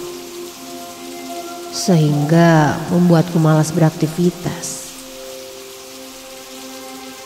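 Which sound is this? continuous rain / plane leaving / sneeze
continuous rain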